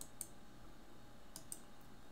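Faint computer mouse clicks sound as shapes are selected in Inkscape, several short sharp ticks spaced apart, mostly in a couple of closely paired groups over quiet room tone.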